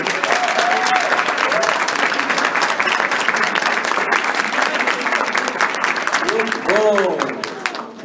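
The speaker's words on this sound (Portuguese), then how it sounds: "uma salva de palmas para os pais" A church congregation applauding the fathers standing for Father's Day, loud sustained clapping with shouts and cheering voices rising over it, tapering off at the end.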